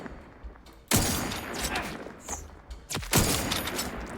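Enemy gunfire in The Outer Worlds 2, two loud close bursts of shots with sharp cracks and a rumbling tail, separated by a shorter lull of combat noise.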